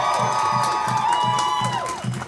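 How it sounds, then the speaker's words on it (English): Crowd at a student rally for higher education cheering and whooping, with sliding voices and a steady rhythmic thump underneath, loud and continuous throughout. "Give yourselves a round of applause."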